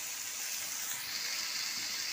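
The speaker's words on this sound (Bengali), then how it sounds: "এরকমভাবে এদিক ওদিক করে দিয়ে ভেজে নেবো ভালো করে।" Lentil paturi wrapped in bottle gourd leaves fries in a pan with a steady, even sizzle and hiss, close and continuous throughout.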